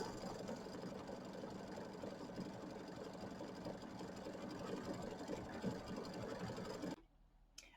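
Embroidery machine stitching out a quilt design in white thread, a steady rapid mechanical whirring and clatter for about seven seconds before stopping abruptly into near silence.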